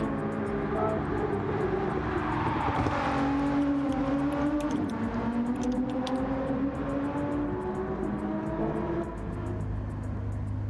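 Several race car engines in a racing video game idle and rev as they warm up, a steady, loud engine drone with rising and falling pitch sweeps running throughout.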